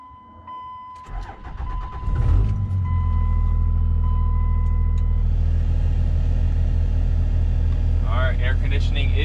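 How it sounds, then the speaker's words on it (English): A Cummins diesel pickup truck cranks for a couple of seconds, catches and settles into a loud, steady rumbling idle, recorded close up with a voice briefly heard. "so let's go ahead and start the truck up"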